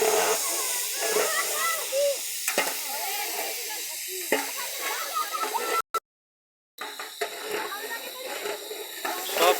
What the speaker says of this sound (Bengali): এই দেখুন তেল দেওয়া হয়েছে, তেলটা গরম হচ্ছে। আদা বাটা, রসুন বাটা, পেঁয়াজ বাটা দিয়ে দিলাম।